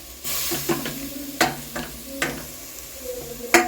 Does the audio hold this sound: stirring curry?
yes